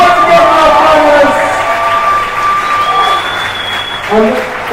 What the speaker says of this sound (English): Huge round of applause once again for our